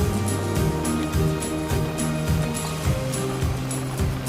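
A small creek in Pennsylvania's Tiadaghton State Forest flows without pause, steady rushing water in a dense continuous babble close by with a faint rhythmic thumping underneath and no voices.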